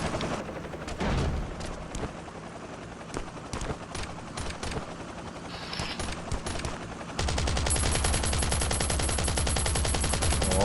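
AK rifle fire in the survival video game Last Island of Survival: rapid bursts of automatic shots, loud and close, intermittent at first then turning into a dense, sustained barrage near the end.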